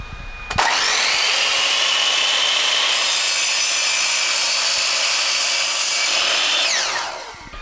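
A power saw cuts steadily through cured epoxy resin on a Yoda nightlight, trimming away excess bits; a loud, continuous high-pitched whine with rasping grind runs for several seconds before winding down.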